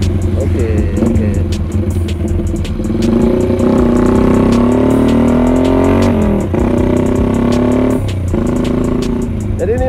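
A 100 cc chopper motorcycle with wide tyres, no front brake and no clutch pulls hard up a hill on a test ride, its engine droning loud and close with rising revs and brief dips.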